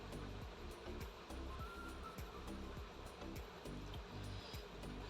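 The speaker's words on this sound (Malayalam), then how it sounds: "അങ്ങനെ ഇപ്പോൾ വെള്ളം നല്ലപോലെ വെട്ടി തിളക്കുന്നുണ്ട്" A pot of water boils hard on the stove, giving a dense, continuous rushing and bubbling roar that stays loud and even throughout with no talking.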